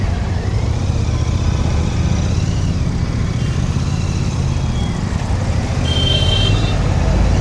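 Heavy road traffic heard from a GT650 motorcycle on the way from Bhongir to Hyderabad, a constant loud roar of engines and road noise with no breaks, dense and continuous throughout.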